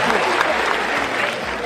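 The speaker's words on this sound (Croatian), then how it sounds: "To je taj težak aplauz" Audience clapping at a stand-up comedy show, a short sustained burst of applause from a crowd with a voice speaking over it.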